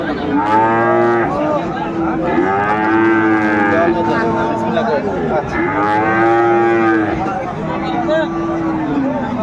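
Sahiwal bulls at a cattle market in Dinajpur give loud, drawn-out moos one after another, close by, with crowd chatter in the background.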